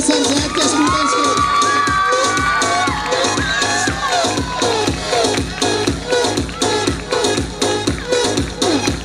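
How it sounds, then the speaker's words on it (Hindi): A large audience at a school's annual prize distribution ceremony applauds loudly while children shout and cheer, with rhythmic clapping continuing steadily throughout and a lively crowd roar on top. "भरपूर तालियां सर जैद के स्टूडेंट्स को"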